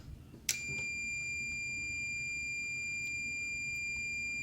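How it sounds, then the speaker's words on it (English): A multimeter on a car alarm relay powered from a 12 volt bench supply lets out a sharp click, then a steady, continuous high beep that holds unbroken through the rest of the moment. "you can hear the meter beeping to show that the relay's changed state"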